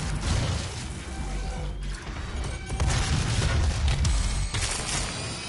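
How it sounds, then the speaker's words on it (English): In DOOM (2016), a wave of explosions bursts out as a power-up wears off, a dense rumbling barrage of booms and crackling debris that swells and rolls on for several seconds. "whenever power-ups wear off, it releases a wave of explosions or something"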